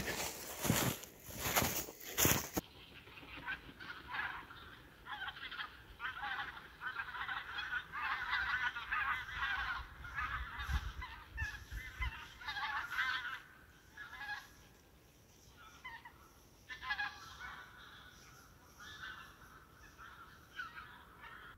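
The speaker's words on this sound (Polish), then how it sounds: "Słychać te gęsi." Geese honk continuously from a distance near a lake in winter, a scattered flock calling over a quiet outdoor background, after a short burst of handling noise at the start.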